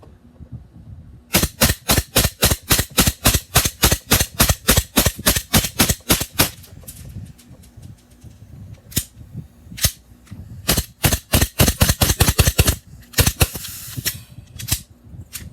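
A gas blowback airsoft pistol firing rounds: a long burst of sharp, evenly spaced snapping shots, then a pause, scattered single shots and another quick string, loud and close.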